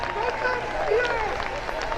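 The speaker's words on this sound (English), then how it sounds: "Everybody is cheering for that young man" A crowd at an England Athletics U15/U17 championships cheers and applauds a young high jumper's personal best, a steady wash of distant clapping and cheering under a commentator's voice.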